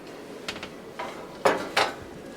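Metal bread pans being handled on a kitchen counter, four separate sharp clanks and knocks spaced about half a second apart, the last two loudest, with no talking.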